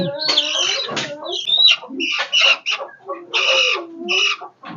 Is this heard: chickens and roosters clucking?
yes